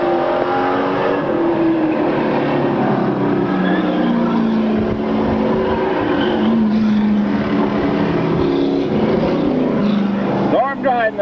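Race cars roar around the track in a continuous loud engine drone with pitch sweeps as they pass, while an announcer talks over the noise throughout.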